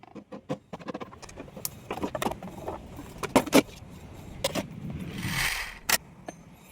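Disassembly of a Changhong L32H4 LED TV for repair, a quiet run of sharp plastic clicks, taps and rattles of parts and tools, irregular and close, with a brief scraping rush near the end.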